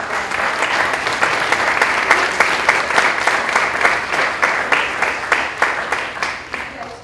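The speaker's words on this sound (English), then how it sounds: "I want to give another round of applause to all of our competitors today" An audience at a university communication speak-off competition gives a sustained round of applause for the competitors, dense clapping steady and loud throughout before tapering slightly toward the end.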